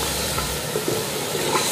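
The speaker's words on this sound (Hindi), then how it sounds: "अब इसमें मैंने मैरिनेट किया चिकन डाल दिया है" Marinated chicken drops into a pan of frying onions and ginger-garlic paste, a loud close sizzle and hiss with soft stirring scrapes, steady throughout.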